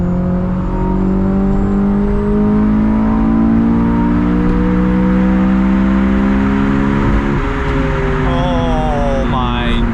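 A Honda S2000 engine revs high while driving in traffic, a loud, sustained rising whine that climbs steadily and then winds up again near the end, with a steady road and wind roar beneath.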